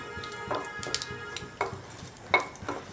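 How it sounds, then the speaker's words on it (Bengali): Cumin, dried red chilli and bay leaf tempering frying in a pan, a soft steady sizzle with several scraping stir strokes of a utensil against the pan, heard close with no talk. "এইভাবে একটু ভালো করে ভেজে নিচ্ছি যাতে জিরে, শুকনো লঙ্কা, তেজপাতাটা খুব ভালোভাবে ভাজা ভাজা হয়ে যায়।"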